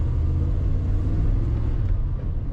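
A 1994 Chevrolet Silverado K1500 pickup with an automatic transmission accelerates, its engine giving a steady, loud low rumble heard from inside the cab, with no talking.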